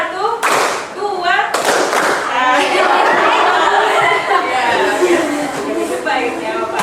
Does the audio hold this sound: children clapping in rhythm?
yes